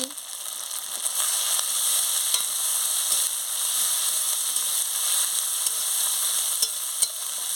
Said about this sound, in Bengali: দিয়ে ভালো করে মশলাটাকে ভেজে নিচ্ছি